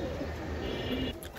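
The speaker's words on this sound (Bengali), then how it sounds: "এই যে দেখেন একটা নর কবুতর মোল্টিং এ আছে" A male pigeon coos in a loft, its low murmuring calls steady and close for most of the moment before easing off near the end.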